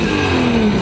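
A jet ski engine revving hard on a farm lake, a loud steady motor roar with a gliding pitch rising across the whole short burst, no talk over it.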